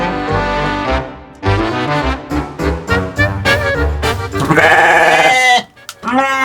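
Priangan and Garut sheep on a farm in Indonesia give a series of loud, close bleats in quick succession, some long and wavering, with brief pauses between calls.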